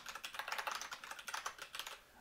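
Quiet, close keystrokes on a computer keyboard come in a quick, uneven patter as Haskell code is entered, with no voice over them.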